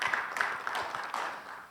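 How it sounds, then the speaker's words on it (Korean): A seated audience at an academic theology forum claps to welcome a speaker, a brief ragged burst of hand claps that is moderately near and fades toward the end. "우리 박수로 다시 한번 환영해 주시기 바랍니다"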